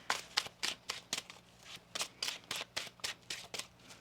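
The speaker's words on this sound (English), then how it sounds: "One more shuffle here." Tarot cards shuffled close by, with a rapid series of about a dozen crisp papery riffles and slaps in an even rhythm, alone without talk.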